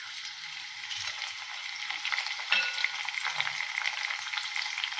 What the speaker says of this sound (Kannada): ಇದಕ್ಕೆ ಡೈರೆಕ್ಟಾಗಿ ಒಮ್ಮೆ ಕರಿಬೇವು, ಹಸಿಮೆಣ್ಸಿಕಾಯಿ ಹಾಕಿಬಿಡ್ತೀನಿ ನೋಡ್ರಿ.